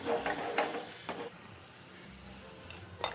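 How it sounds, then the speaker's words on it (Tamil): Fried cashews and raisins tipped from a hot pan into beetroot payasam, giving a short sizzling, scraping pour followed by a quieter stir and a final clink, with no talking. "இப்போ வந்து இதை எடுத்து நம்ம பாயசத்தில் வந்து கொட்டிடலாம்."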